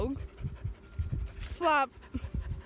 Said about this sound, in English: And now there's a dog.